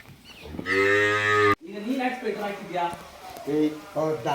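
A cow tied up outdoors on a cold night gives one loud, drawn-out moo up close. People then talk over quieter farmyard background.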